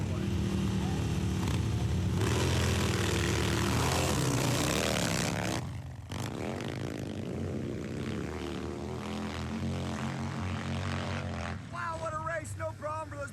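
Big Harley-Davidson 1270 and vintage motorcycles climbing a steep hill at Glen Helen during a moto fest race, engines droning loudly at a distance with a crowd-like wash, with a brief dip midway and a commentator talking over it.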